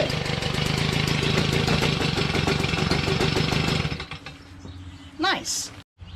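A Stihl BG55 leaf blower's two-stroke engine runs loud and steady at full throttle for about four seconds, then cuts to a low idle before a brief rising whine and sharp rev near the end.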